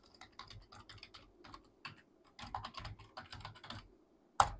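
Someone types login credentials on a computer keyboard, with quick bursts of close, crisp key clicks separated by short pauses, ending in one sharp, louder keystroke.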